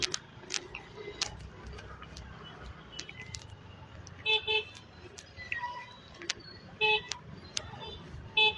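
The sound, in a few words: car horn honking in city traffic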